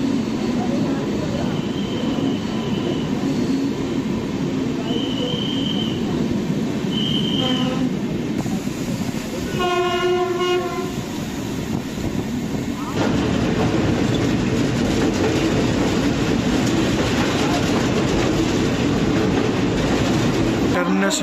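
Train noise on a Konkan Railway journey between Mumbai and Trivandrum, a steady rolling rumble throughout with brief tonal horn-like notes partway, and some voices in the background.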